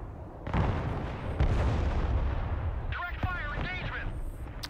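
Artillery fire in the video game Broken Arrow: a dense, rumbling barrage of booms and blasts rolls on continuously, with a loud burst near the start and another mid-clip, while a voice talks over the battle noise.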